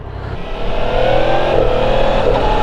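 A 2023 Yamaha MT-10 inline-four motorcycle engine revs up loud and close, a strong sustained roar that rises and holds steady, with no one talking over it.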